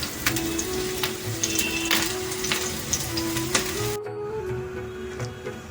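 Vegetables frying in a pan of hot oil for a vegetable moong dal, giving a steady close sizzle with scattered pops and crackles and a brief dip near the end.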